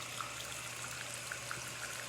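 Water trickles steadily from a tap while a makeup brush is wetted for washing with tea tree soap, a continuous close, soft running-water wash with no speech.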